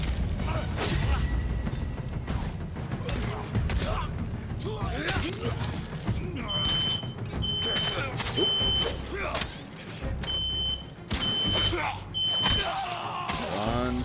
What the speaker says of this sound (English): We gotta take care of a quick smoke alarm while dinner's being made.